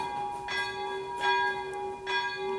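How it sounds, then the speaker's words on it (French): Church bell ringing at noon, three resonant strikes spaced about a second apart with long humming overtones sustaining between them, clear and moderately close, no voices. "Il y en a beaucoup qui entendent la cloche qui sonne, mais c'est midi"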